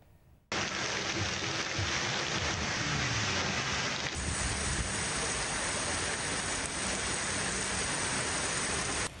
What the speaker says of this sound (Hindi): रावलपिंडी इस्लामाबाद में तेज बारिश ने जल थल एक कर दिया।